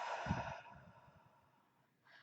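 A long, steady exhale through the mouth during a guided breathing practice, close and soft, with a brief airy sound returning at the end.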